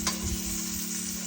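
A pork chop sizzles steadily in a hot pan as its fat renders, a close, continuous crackle and hiss with a faint electrical hum underneath and no talk.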